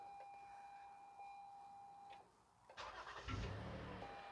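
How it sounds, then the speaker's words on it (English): A 2015 Toyota Sienna AWD with a 3.5-litre engine cranks and starts after a steady warning chime, the engine catching and settling into a close idle. "We're going to start the engine,"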